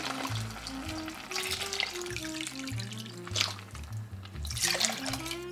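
Low sodium veggie broth pours into a pan of cooking mushrooms for gravy, a steady liquid splash and sizzle running throughout under background music.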